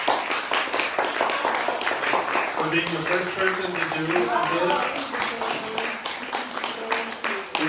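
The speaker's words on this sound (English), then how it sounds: "Round of applause." A live audience claps in a sustained round of applause after a talk, dense and steady throughout, while a voice speaks over the clapping.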